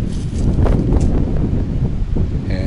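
Wind rushes through a mountain gap on a trek, a loud steady buffeting roar with slight gusts and a few faint rustles underneath.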